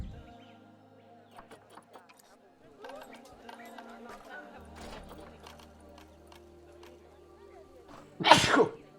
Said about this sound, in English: Why am I sneezing?